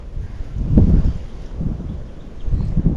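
Wind blows outdoors during spin fishing with an Azura Sawada Light 76LS spinning rod, giving loud low rumbling gusts against the microphone that rise and fall in waves, with no one talking.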